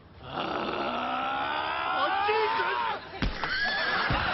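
A horse in the TV show Still Game gives a long, wavering neigh that rises, then falls away before a short snort, loud and close over a faint background.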